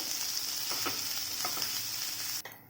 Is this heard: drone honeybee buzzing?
no